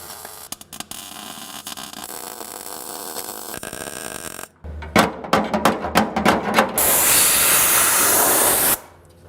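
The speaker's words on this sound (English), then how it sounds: "I'm going to go ahead and get started on my welding." Welding on a Porsche 914 rear engine compartment shelf: after a stretch of workshop noise, a series of sharp crackling bursts and a long steady hiss of the welder arc sound close and loud, then the noise cuts off abruptly.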